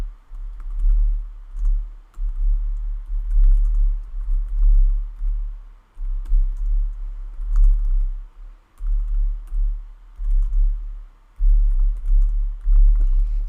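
Continuous typing on a computer keyboard, steady clusters of near, moderately loud key clicks with short pauses between bursts and no voices.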